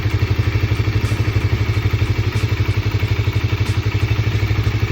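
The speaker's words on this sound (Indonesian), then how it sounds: "kita coba nyalakan motor ini. Perhatikan suara mesin" Honda CBR 150 motorcycle engine just after starting, close and loud with a fast, regular pulsing idle and light mechanical clatter, steady throughout.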